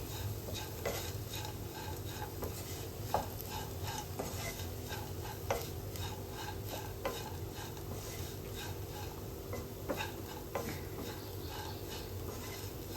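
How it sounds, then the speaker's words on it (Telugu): Spiny gourd pieces frying with chili powder are stirred in a pan, giving a steady sizzle with repeated soft scraping and clinking of the spoon against the metal. "ఇప్పుడు కారం, 2 స్పూన్ల కారం వేసుకొని మంచిగా అంతా కలుపుకోవాలి."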